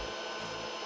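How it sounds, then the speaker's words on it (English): Cooling fan on an Anet A8 3D printer whirs steadily, a constant close broadband hum with no breaks over a brief moment. "Fan works. Nice."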